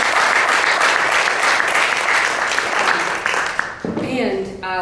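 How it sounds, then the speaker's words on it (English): A symposium audience gives a warm round of applause for the event's contributors, dense steady clapping filling the room for about four seconds before fading, after which a voice begins speaking. "a round of applause is appropriate for them too"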